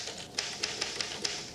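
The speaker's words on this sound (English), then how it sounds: "Typewriters make an awful lot of noise to be working on nothing." A typewriter in a video game clacks with five or six sharp, evenly spaced key strikes over a quiet background hum.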